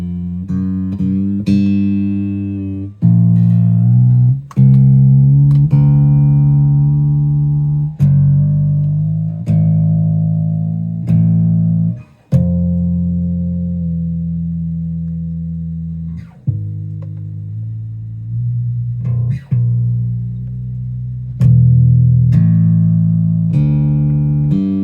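A Gibson EB5 bass guitar played through its pickups, notes plucked loud and up close with deep sustained tones, a series of separate notes and phrases ringing out alone over about twenty-five seconds.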